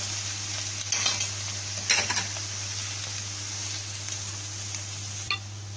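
Pork ribs sizzle and fry in a hot pan for Chinese-style sweet and sour pork, a steady close hiss with a few sharp stirring scrapes and clatters of a utensil against the pan.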